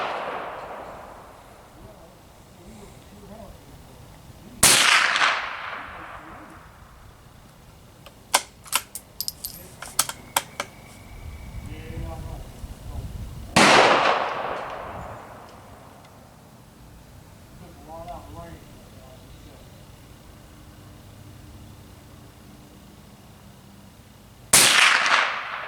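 A CZ 452 .22 rifle fires at the range: three sharp, well-spaced reports ring out loud and close, with quieter clicking and handling noises between the second and third.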